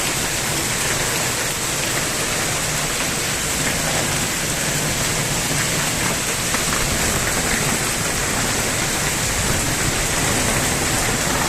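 Steady downpour lashed by wind hammers the surroundings, a close, loud wash of rain noise with faint scattered drop patter, unbroken and free of speech throughout.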